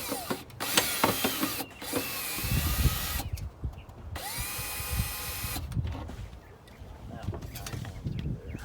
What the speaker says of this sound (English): I got a few screws to put in here.